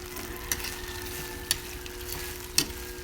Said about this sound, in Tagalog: Paghahaluin mo na lang siya dyan.